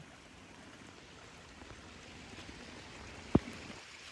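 Water flows through a small channel during rain, a soft continuous trickling wash at low level, with one brief sharp knock near the end.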